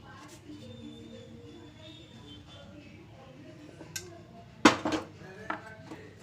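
Metal utensils scrape and clink against a plate as a cooked vegetable dosa is lifted off the pan and served, with a few sharp clatters near the end over quiet kitchen background.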